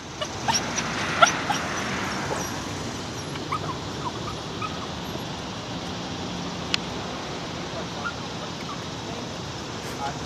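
A dog whimpers and yips with occasional sharp barks over a constant background rush, the dog sounds fairly close and intermittent.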